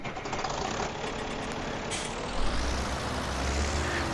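A Deutz-Fahr tractor engine in Farming Simulator 17 runs with a steady, loud diesel rumble and hiss throughout, and a brief air-brake-like burst comes midway.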